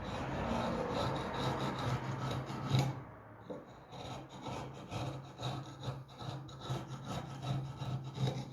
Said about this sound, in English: Yes, I know, sanding is boring, but it was a necessary step.